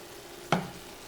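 Corn noodle pasta ingredients, including onion, stirred in a pan, one brief close scrape against a soft sizzling background.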